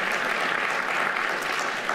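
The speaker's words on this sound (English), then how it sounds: "Please give him another round of applause while he's in the room." Audience applause at a business keynote event, a steady wash of clapping from a room full of people, moderately quiet and even throughout the short stretch.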